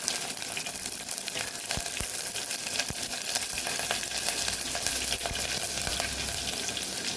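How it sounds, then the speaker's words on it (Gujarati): Mustard seeds and green chillies crackle and sizzle in hot oil for a Kathiyawadi tempering, a dense, continuous frying hiss with scattered sharp pops and spits, close and fairly quiet. "અહીં આપણું તેલ ગરમ થઈ ગયું છે એક ચમચી જેટલી આપણે રાઈ ઉમેરશું"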